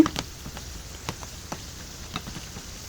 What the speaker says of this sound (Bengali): বাকিগুলো এই যে ভেজে নিতেছি